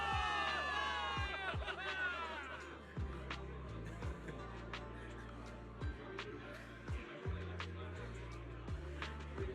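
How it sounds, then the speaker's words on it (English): Soldiers cheer at a victory rally in the video game Zenless Zone Zero, a crowd roar over a steady bed of game music and rhythmic thumps, with a swell of shouts early that settles into ongoing hubbub. "Cheers rise up from the gathered soldiers."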